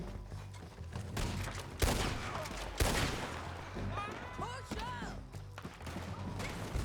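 Gunfire in Red Dead Redemption 2 cracks out in repeated sharp shots and bursts over a dense game soundscape, with voices speaking throughout.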